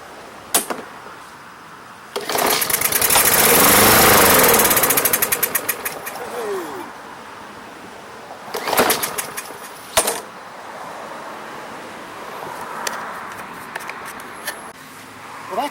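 An MTD 140cc Briggs and Stratton lawn mower engine that will not start, cranked with a pull cord: brief sputtering bursts, one longer rough revving attempt that fades out, then several short pulls, close and loud.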